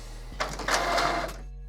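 A Canon Pixma TS5350 printer starts up to print an alignment pattern, with a brief mechanical whir and clatter of the carriage that stops after about a second, heard close and alone.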